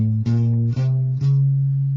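An electric guitar plays notes of a half-whole diminished scale starting from A, three clean picked notes stepping upward, each sustained and ringing clearly with no talking.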